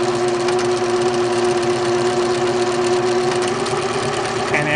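A Singer 6268 sewing machine stitching letters with an alphabet cartridge, giving a fast steady motor hum with a rapid rattling needle beat that runs unbroken and close.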